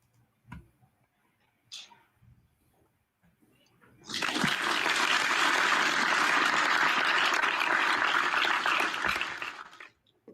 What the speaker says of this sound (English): a round of applause for all our participants for their participation